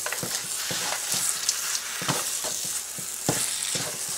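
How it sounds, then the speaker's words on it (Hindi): Makhandi halwa being roasted with chopped dry nuts in a pan: a steady hiss of frying with repeated scraping stirs of a spoon at a regular pace, close and moderately loud, with no talk. "इसके अंदर कटे हुए ड्राई नट्स डाल दें, अच्छी तरह मिक्स कर दें और दोबारा से इसकी भुनाई करें।"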